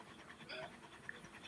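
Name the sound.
dog panting while being petted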